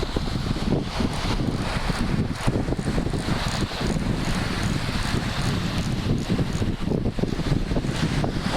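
Strong wind gusts across a beach while surf fishing, buffeting the microphone with continuous rough roar and rustle, waves and water faintly mixed beneath, no voices.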